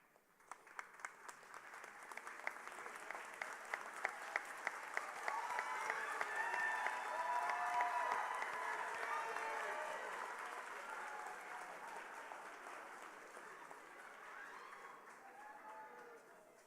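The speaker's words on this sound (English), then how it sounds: "give them a round of applause and thanks" A large audience applauds steadily, the clapping swelling to a peak midway and then gradually tapering off while continuing to the end.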